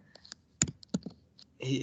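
A few sharp, sparse clicks of keys being typed on a computer keyboard, close and quiet, ending with a brief burst of louder noise.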